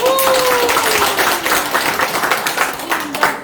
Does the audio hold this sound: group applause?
yes